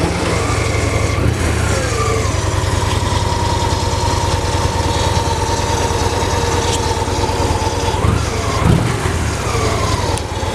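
A 2010 Victory Vision Tour touring motorcycle with stock pipes starts up and settles into a steady, loud idle, its engine rumbling close and continuous with a slight blip partway through.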